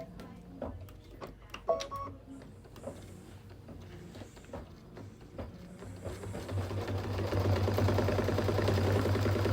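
A computerized longarm quilting machine stirs with a few beeps and clicks, then its motor ramps up into a steady, loud mechanical whir and rapid stitching rattle that continues to the end.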